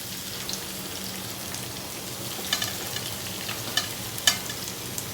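Sliced onions sautéing with fennel seeds in a pan for a Kerala pork roast, a steady soft sizzle with occasional light stirring clicks, close and continuous with no voices.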